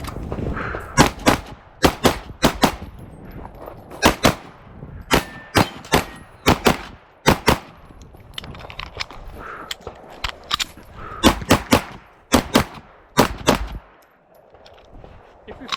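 Sharp pistol shots from a Daniel Defense H9 crack out in quick strings and pairs during a competition match, with brief pauses and faint metallic clangs of steel targets between bursts, and no talking.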